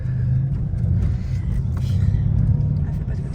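Mercedes C63S at drift practice, its engine a steady, loud low rumble building slightly as it accelerates, close by and continuous.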